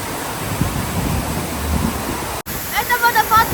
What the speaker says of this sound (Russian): Это водопад Гелеста.